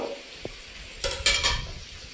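Slit green chilies are dropped into a pan of stuffed eggplant curry, sending a few short, faint bursts of sizzling and stirring amid quiet kitchen background.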